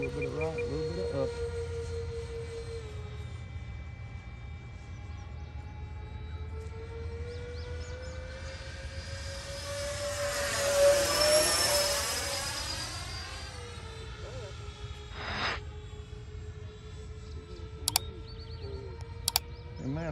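A Freewing F-14 Tomcat RC jet with twin 80mm ducted fans flies overhead. Its steady whine swells and bends in pitch as it sweeps past near the middle, then drones on at a distance, with a few sharp clicks near the end.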